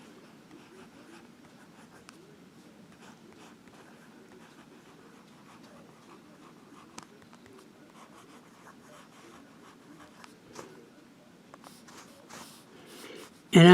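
Benu Briolette fountain pen with a medium nib writing on a Rhodia pad, giving faint, steady scratching strokes close up and quiet, ending with a louder bump.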